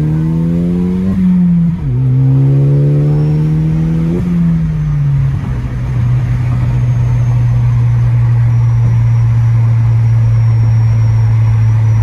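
A factory-tuned Ford Focus ST hatchback revs loudly through a couple of upshifts while driving, then settles into a steady engine drone for the rest of the run.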